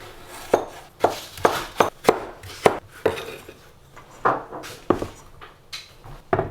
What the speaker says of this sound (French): Donc ça c'est du radis et les carottes qu'on va couper en plus petit que ça.